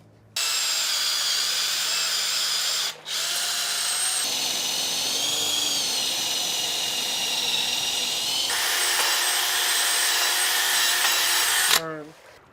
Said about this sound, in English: I'm going to kind of start small with a pilot hole and work my way up